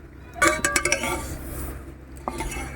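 A spoon works through besan and semolina roasting in a pot over a low flame. A quick cluster of metallic clinks and scrapes against the pot is followed by quieter stirring and one last tap.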